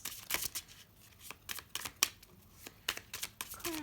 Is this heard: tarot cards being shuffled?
yes